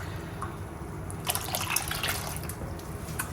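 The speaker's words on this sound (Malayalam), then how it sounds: "ഇങ്ങനെ ഈ ഒരു സ്റ്റേജിൽ ഈ ഒരു സ്റ്റോക്ക് ഒഴിക്കുന്നു" Chicken stock pours into a cooking pot for a wheat porridge, giving a steady liquid splash and gurgle that grows brighter midway, heard alone without talk.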